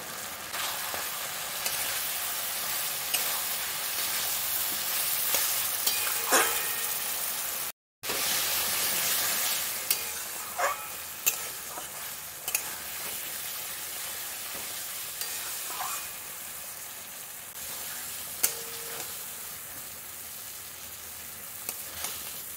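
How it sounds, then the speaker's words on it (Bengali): Spices with hot green chili sauté in a pan for a vegetarian cabbage and potato curry, a continuous close frying sizzle with intermittent stirring scrapes and a brief dropout partway through. "এটা কষানো ভালো করে হয়ে গেছে"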